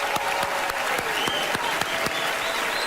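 An audience bursts into loud, sustained applause and cheering at a show, with dense steady clapping throughout and a few sharper individual claps standing out.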